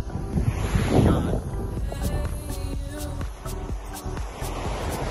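Strong coastal wind roars and buffets the microphone in a steady rush, with a faint rhythmic ticking underneath.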